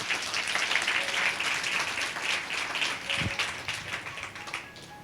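Church congregation at a Sunday service clapping loudly, a steady crowd of hands for several seconds that thins out toward the end, with a single low thump partway through.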